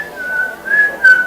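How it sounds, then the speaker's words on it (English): A person whistles a wavering, melodic tune alone, sitting by a classroom window, the clear tone rising and falling over about a second and a half with no talk. "I started whistling"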